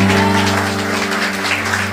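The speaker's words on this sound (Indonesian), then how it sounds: "Yang mau tepuk tangan yang meriah buat Tuhan." Church congregation claps in lively applause during a sermon, a busy wash of hands layered over sustained keyboard chords that hold throughout.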